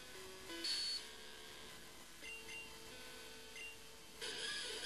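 Pokemon Red battle sounds from the Game Boy game, a quiet sequence of short electronic chirps and bleeps with a brief harsh noise burst, low in level, no talking.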